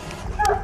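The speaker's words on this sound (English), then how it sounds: "The courageous dogs decide to stage a full-scale chase through the forest" A dog gives a single brief yelping bark during a chase through a forest, close and sharp over a low rumbling background.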